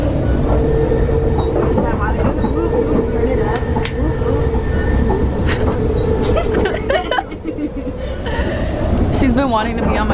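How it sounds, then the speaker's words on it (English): An LA Metro train rumbles steadily toward Union Station, a loud continuous roar of the carriage with squealing wheel tones and clicks, while people talk over it inside the car. "We're on the metro to the LA Union Station."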